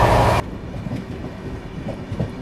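A train rolls along the Delhi–Kanpur rail section near Panki Dham after a loud rush at the start, leaving a steady low rumble with faint wheel clatter. No speech is heard.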